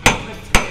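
A hammer handled in a garage gives two sharp, close knocks about half a second apart, each a brief bright clack over a quiet background.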